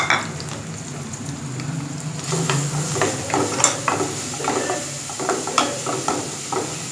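Garlic paste and green chilli paste fry in oil in a pan, a steady sizzle that swells partway through as the paste is stirred, with soft scraping and crackling ticks close by and no talking.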